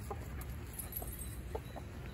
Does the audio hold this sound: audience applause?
no